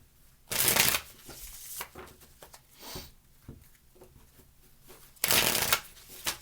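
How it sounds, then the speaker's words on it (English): Tarot cards being shuffled up close: two loud riffling bursts at the start and end, with softer card handling and taps in between. "Two more shuffles."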